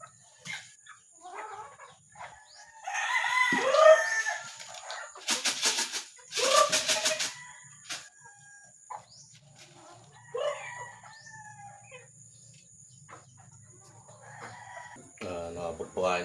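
Farm chickens cluck and call in bursts while feeding, with a rooster crowing loudly partway through, alongside scattered background noises and pauses between the sounds.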